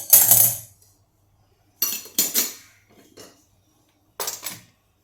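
A heavy-bottomed kadhai set down on a gas stove gives sharp metallic clanks, one loud clatter at the start followed by two more clusters of clinks and scrapes, close and with no one talking.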